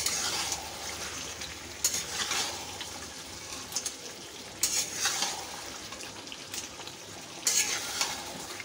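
Chicken kosha cooking in a pan, a steady soft sizzle and frying hiss with several brief stirring scrapes spaced a few seconds apart, no voices.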